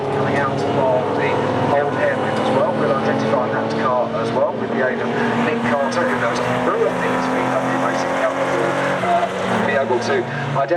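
VW Cup race cars circulate at Donington Park, their engines a continuous distant drone beneath steady commentary.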